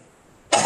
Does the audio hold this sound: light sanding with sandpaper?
no